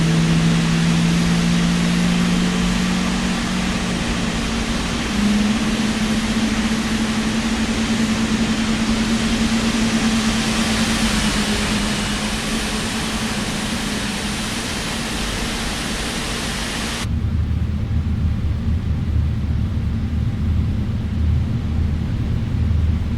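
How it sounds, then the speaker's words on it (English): GE90 jet engines of an Emirates Boeing 777-300ER in Microsoft Flight Simulator 2020 whine and rumble steadily at length as they power up, a low hum rising slightly, then the sound cuts abruptly to a quieter low drone. "Sounds of the GE90s powering up."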